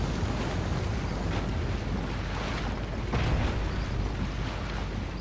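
A grenade explodes in Resident Evil 4, a loud broadband blast with a sustained roaring, crackling wash that stays dense and steady for several seconds.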